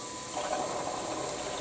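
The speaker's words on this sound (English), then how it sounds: "And I'll just freehand put a little chamfer on the underside." A milling machine with a single-point chamfering bit cuts a freehand chamfer on the underside of a tooling plate, making a steady close mechanical whir and grind that builds slightly after a brief start.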